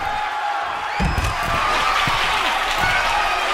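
Arena crowd cheering in the wrestling game Def Jam 2K24 at the Terror Dome, a steady loud roar with swelling bursts and thumps, under commentary talk throughout.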